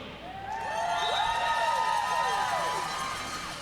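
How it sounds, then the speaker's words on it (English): At a roller derby bout between The Herd and Gang Green, a crowd cheers and whoops for the officials in a sustained swell of overlapping shouting voices lasting a few seconds. "The real fans who are out there cheering on the officials. Let me hear you."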